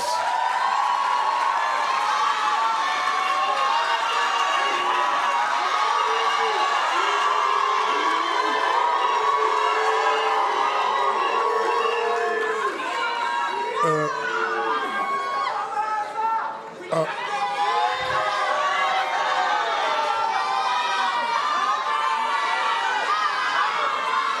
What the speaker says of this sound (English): A round of applause for our lecturers and professors.